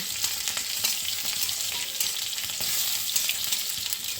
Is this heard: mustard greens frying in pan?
yes